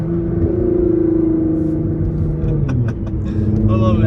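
Facelift Nissan GT-R with airlift suspension cruising through town, a steady low engine hum and road rumble at moderate level, with a few faint clicks near the end.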